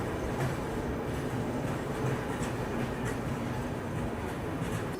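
An Indian Railways Muzaffarpur–Valsad express train rolls past in a steady, unbroken rumble with faint wheel clatter. The sound holds at a constant level throughout, with no voices.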